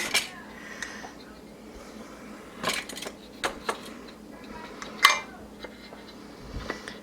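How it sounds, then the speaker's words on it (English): Metal canning lids clink lightly onto glass jars packed with beef in broth, a few scattered soft taps and chinks spread out over a quiet kitchen background. "And then we're going to add our lids."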